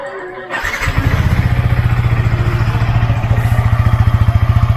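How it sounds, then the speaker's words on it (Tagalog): A Yamaha R15 v3 motorcycle with its stock exhaust starts up after a brief quiet moment, then settles into a loud, close, rapid throbbing idle with an even pulsing beat. "start natin yung motor din para mapakinggan natin pag stock siya."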